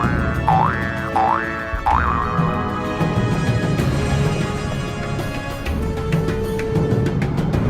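Cartoon boing sound effects added over Hulk jumping across rocks and hills in the 2003 Hulk film, three springy wobbling boings in quick succession near the start, followed by busy orchestral and action noise.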